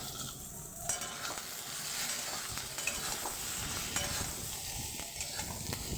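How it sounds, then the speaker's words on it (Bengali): Eggplant is stirred around in a hot oiled wok, a continuous sizzle with scraping, shuffling sounds of the utensil against the pan, close and steady with no talking. "শুধু আমি বেগুনটাকে একটু কড়াইয়ে নাড়াচাড়া করে নেবো"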